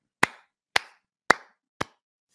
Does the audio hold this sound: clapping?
yes